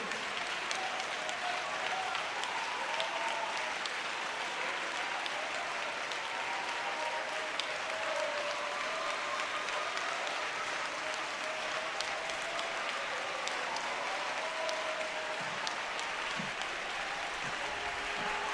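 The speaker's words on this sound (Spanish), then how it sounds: "Alguien tiene que levantarse y darle un aplauso al Señor." Sustained applause from a church congregation at a Pentecostal convention, a steady broad wash of clapping that carries evenly for the whole stretch with no speech over it.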